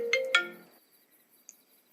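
A short electronic phone ringtone plays a couple of bright tonal notes, then cuts off into near silence with a faint click.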